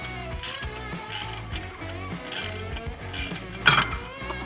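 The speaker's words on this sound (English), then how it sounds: "So I'm gonna hold this while I release the nut" A hand ratchet clicks steadily in quick bursts while loosening a nut on a CFMoto CForce 1000 clutch, close up and alone, with a brief metallic clink near the end.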